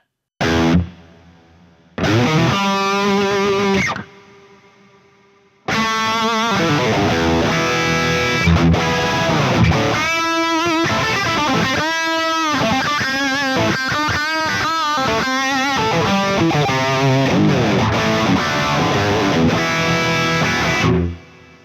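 A distorted electric guitar plays chords and runs through heavy reverb, loud and sustained, with notes washing into each other and fading out.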